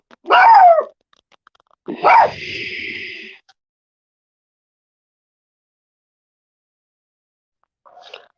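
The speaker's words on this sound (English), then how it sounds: "Apparently, the dogs want to join in the conversation." A dog gives a couple of sharp barks with a whiny, drawn-out yelp, then after a long silence a faint short bark is heard far off.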